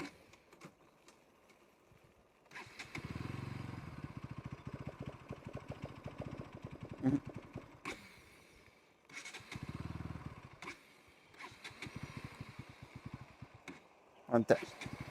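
A Bajaj NS200 BS6 motorcycle engine is started in neutral, with two bursts of low, throaty engine running separated by quieter gaps, close by, while someone talks over parts of it.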